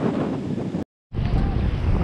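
Strong wind roars and buffets the microphone on the water at Byron Bay, a loud, steady rushing that cuts out for a moment and then returns.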